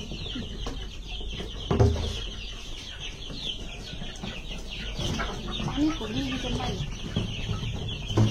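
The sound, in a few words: chickens clucking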